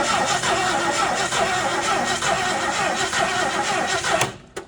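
A 1969 Mercury Cougar XR7 convertible engine cranks steadily without catching, the starter's continuous churning loud and close for several seconds before cutting off abruptly at the end.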